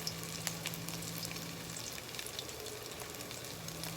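Minced Peshawari chapli kabab mixture frying in a pan, a steady dense sizzle with crackling spatters and a low hum underneath, continuous and close.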